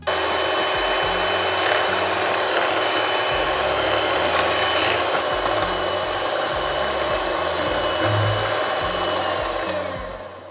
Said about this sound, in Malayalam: ഇതിന് നമ്മൾ നല്ലോണം ബീറ്റ് ചെയ്ത് നല്ല ക്രീമിൻ്റെ പരുവത്തിലാക്കി എടുക്കണം.